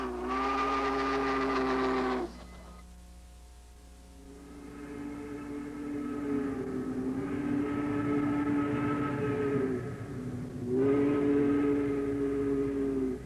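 Steam locomotive 4449 sounds its whistle on the mountainous Siskiyou Line, a loud chime-like tone in three long blasts separated by brief gaps, over a steady rumble of the moving train.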